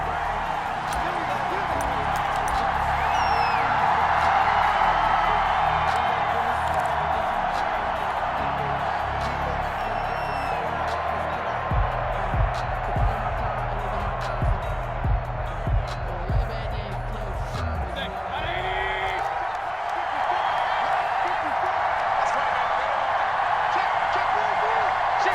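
Stadium crowd in the Madden NFL 21 video game before a New York Giants versus Tennessee Titans matchup, a steady broad roar of cheering throughout with a few brief thumps midway, under a commentator's talk.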